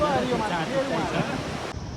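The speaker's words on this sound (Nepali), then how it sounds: "यो चाहिँ नर्स्याङ झरना हो।" Narsyang waterfall in Nepal's hills, a continuous broad rush of falling water, close and fairly loud with wind buffeting the microphone, cut off abruptly near the end.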